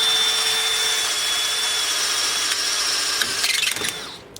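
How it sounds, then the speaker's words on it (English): A DeWalt drill with a small bit bores into a Kwikset door lock, a steady high whine running for several seconds before it stutters and winds down with a few clicks. "So I'm just going to start out with the little drill bit we have here, and try to just cut it right out right from here."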